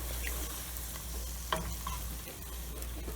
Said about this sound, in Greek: Το φαγητό μας βράζει όμορφα.